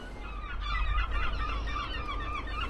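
Harsh seagull squawks and calls overlap continuously at a ship dry dock, loud and close, with a low rumbling background underneath.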